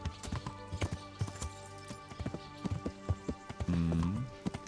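A horse's hooves clip-clop in a steady trotting rhythm while being ridden in Kingdom Come: Deliverance, close and distinct with evenly spaced thuds, and someone speaks briefly over the hoofbeats.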